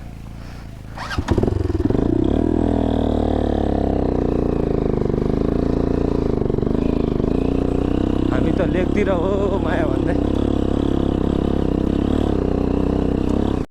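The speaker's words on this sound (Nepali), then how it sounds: "यो बाइक खै किन ठिकै छैन" Motorcycle running along a mountain road in Bajura, Nepal, its steady engine drone loud and continuous throughout, with a bike that seems not to be running right; people talk over the engine.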